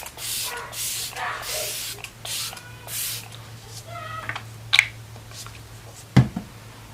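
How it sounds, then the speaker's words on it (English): Makeup setting spray hisses onto a face in several short, close bursts with pauses between them, a low steady hum underneath and a couple of sharp clicks near the end. "A nice amount of setting spray."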